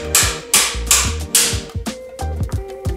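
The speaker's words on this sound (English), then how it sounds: "better to give it a couple of hard whacks with the steel end of the hammer" A steel hammer striking a bicycle bottom bracket cup in the frame, with loud sharp metallic whacks at a steady rhythm, about seven blows close by, each with a brief ringing tail.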